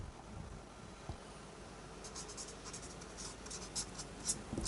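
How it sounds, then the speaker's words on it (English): Pen or pencil writing out music-theory notes, a faint soft scratching that picks up in short strokes toward the end, alone in a quiet room with a low steady background hum. "let me write it down here one more time"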